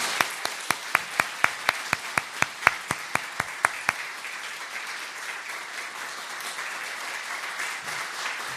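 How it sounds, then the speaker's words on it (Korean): A church congregation applauding at a Palm Sunday service, with loud sharp claps in a steady beat for about four seconds, then a softer diffuse patter of applause continuing in a reverberant hall. "축하하는 의미로 박수로 영접해 주시기를 바랍니다."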